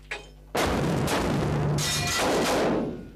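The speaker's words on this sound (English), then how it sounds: "this is the stun grenade that we use. Disorientates not only by the sound it gives, but it gives a large flash" A stun grenade used by a special forces team goes off in one sudden, very loud blast after a brief quiet moment, and the harsh roar rings on for a few seconds before it fades.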